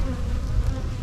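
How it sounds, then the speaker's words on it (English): Honey bees buzz at an apiary hive during winter preparation with sugar boards, a dense, continuous close-up drone of many insects with no talking. "There's a bunch of bees."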